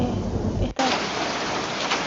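Steady rain falling on a garden, played from a sleep-sounds app: a dense, even hiss throughout, broken by a brief cut near the start where one track gives way to another.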